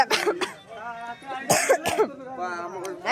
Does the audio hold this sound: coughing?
yes